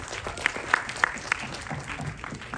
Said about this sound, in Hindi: भूषण जी को एक बार जोरदार तालियां चाहिए।